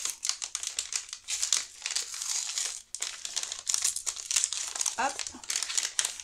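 Paper crinkles and rustles close up as a numbered compartment of a scrapbooking advent calendar is torn open, continuous crackling with a brief word spoken partway through.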